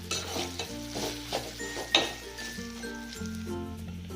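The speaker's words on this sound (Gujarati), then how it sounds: "એને આપણે હલાવી લઈશું." Pieces of torn roti are stirred in a pan over low flame, a spatula scraping and clinking against the metal amid a soft sizzle, with light background tones running underneath.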